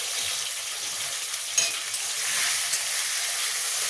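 Tomato with ginger paste and chopped green chili frying in oil for a vegetarian tarkari, a steady close sizzle with a few faint scrapes of a spatula as it is stirred, no voices.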